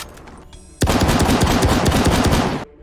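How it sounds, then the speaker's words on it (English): Rapid automatic fire from the S71 assault rifle in the video game Star Citizen, a loud, dense burst of shots lasting nearly two seconds, with no talk. "Then we have the S71 Assault Rifle. This is a tier B. It fires more like a DMR"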